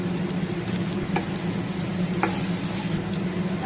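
Potatoes and banana stem frying in a pan with garlic and green chili paste, giving a constant close sizzle with soft stirring scrapes and small pops throughout.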